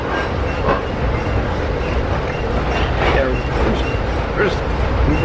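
An Amtrak passenger train rolls along the rails at a decent pace, giving a steady loud rumble with rhythmic clickety-clack from the wheels, heard from on board.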